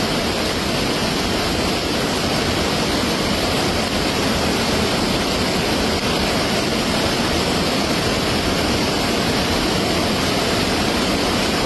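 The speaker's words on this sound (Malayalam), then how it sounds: "വെള്ളം കൂടി വരികയാണ്" A loud, dense, unbroken roar of a fast-rushing, rising monsoon floodwater stream in hill country fills everything, steady and close, with no other sounds breaking through.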